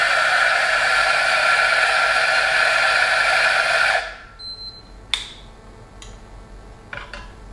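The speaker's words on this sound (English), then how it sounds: "Grind my coffee beans." A café coffee grinder grinding beans for cappuccino whirs loudly and steadily for about four seconds, then stops, followed by a few light clicks and taps.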